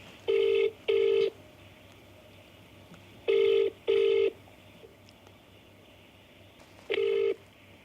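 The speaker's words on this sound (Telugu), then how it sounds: "రింగ్ అవుతుంది." Telephone ringback tone on an outgoing call: paired electronic rings around 1 and 3.5 seconds, then a single ring near 7 seconds, fairly loud and clear with no talk over them.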